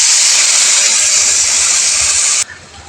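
Ground ginger-cumin paste, garlic paste, green chili paste and chili powder hit a hot pan, giving a loud, steady, hissing sizzle that cuts off abruptly near the end.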